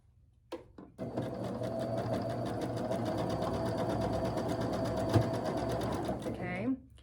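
A sewing machine stitches quilt block pieces in one steady, close, continuous run of needle clatter, with a soft start and stop.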